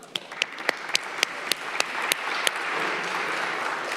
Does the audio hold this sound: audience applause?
yes